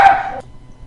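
A single loud, close dog bark cuts off sharply, leaving a quiet room.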